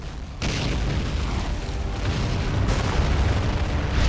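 Rocket explosions in the World War II strategy game Men of War form a dense, continuous rumbling barrage of booms and blasts, loud and sustained after a brief quieter start, with no voices.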